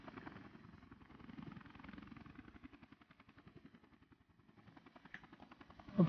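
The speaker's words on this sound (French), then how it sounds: "Orienter l'hélicoptère vers l'avant." A helicopter's rotor thumps in a rapid steady rhythm in the game Air Conflicts: Vietnam, a close, continuous chop that fades slightly then surges at the end, with no talking.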